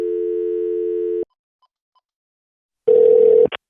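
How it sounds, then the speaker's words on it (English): Telephone dialing 911: a steady electronic tone holds for over a second and stops, then after a short silence a loud buzzy tone sounds briefly before cutting off with a short high chirp, close and clear. "Now I'm going to dial 911"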